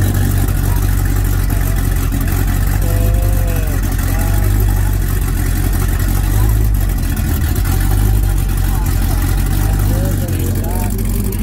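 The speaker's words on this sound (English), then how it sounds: "Oh, he's got an exhaust thing. Quiet and loud." Car engine with a loud exhaust at an outdoor car show, rumbling steadily nearby with a few rises in revs, continuous and heavy in the low end, with voices partly audible around it.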